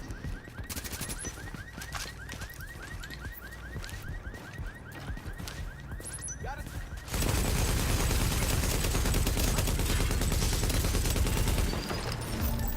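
Rapid automatic turret fire in a PvP survival video game, a dense continuous burst that grows louder and fuller midway and keeps hammering steadily to the end, with no talk.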